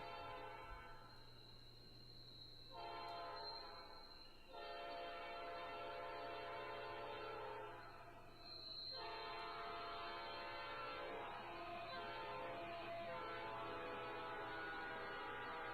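GE GEVO locomotive on BNSF sounding a five-chime P5 horn, a loud multi-tone chord blown in several long blasts with brief gaps over a steady low engine rumble.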